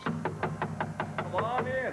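Knuckles rap on a door in a quick run of about eight even knocks, close and fairly loud, before a voice starts talking at the end.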